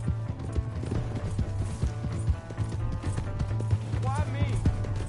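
A horse gallops in Red Dead Redemption 2, its rapid rhythmic hoofbeats clattering steadily with a brief whinny near the end, while game voices talk over the action.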